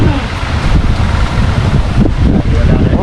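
Cold wind blowing steadily outdoors, a dense rumbling gust noise battering the microphone for the whole stretch without letting up.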